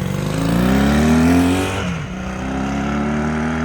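A 1968 Honda CD175 Super Sport motorcycle engine runs close by, its steady drone climbing in pitch as it revs for about a second and a half. It then drops back to a lower, even idle.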